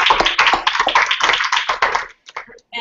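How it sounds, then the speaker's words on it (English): Audience applause for Emily, a dense burst of clapping that fills the room and then thins into a few scattered claps before stopping. "one more round of applause for Emily"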